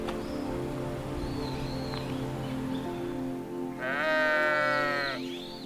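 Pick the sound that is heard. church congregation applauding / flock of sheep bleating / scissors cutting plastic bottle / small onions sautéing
flock of sheep bleating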